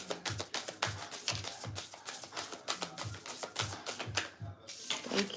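A deck of tarot cards is shuffled by hand in quick, even riffles and taps, a close, quiet pattern of soft rhythmic clicks with no talking.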